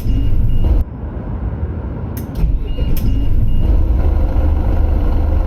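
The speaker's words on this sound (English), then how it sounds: "Start the engine." Bus engine in the Bus Driver Simulator 2019 video game turning over and settling into a loud, steady low rumble, with a brief hiss of air around the middle and no talking.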